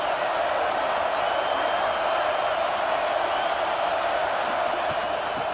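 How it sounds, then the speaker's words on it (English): A stadium crowd at a college football video game keeps up a steady, dense roar through the whole stretch as play resumes for the second half, loud and unbroken with no distinct cheers standing out. "This crowd still bringing the intensity to open the 2nd half."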